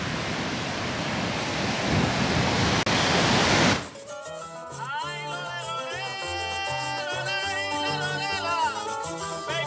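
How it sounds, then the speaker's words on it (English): Wind and surf roar on the rough northern coast of Puerto Rico, a loud broadband wash that abruptly cuts to music partway through. "This northern coast can get kind of rough with the wind and the waves"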